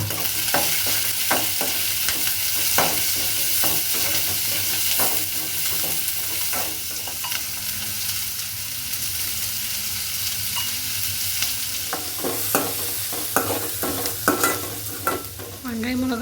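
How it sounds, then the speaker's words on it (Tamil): Onions, chillies and curry leaves sauté in hot oil in a pan, giving a continuous sizzle with the repeated scrape and clack of a spoon stirring, close and clear. "வெங்காயம், மிளகா நல்லா வணங்கினதும் அது கூட சுண்டலை ஆட் பண்ணி நல்லா வணக்கி விட்டுருலாம்"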